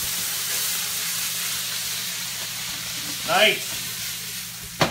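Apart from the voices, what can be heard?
diced walleye tossed into a hot wok, sizzling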